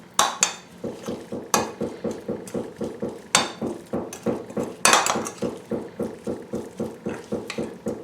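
Utensil repeatedly scraping and clinking around a bowl as shrimp are stirred with lemon juice and smoked paprika, a steady rapid rhythm of close, fairly loud strokes with a few sharper knocks, no voices.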